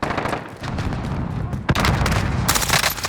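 Dense gunfire rattles in a video game shooter: sustained rapid automatic bursts with a sharp crack partway through, loud and close throughout, under occasional voices.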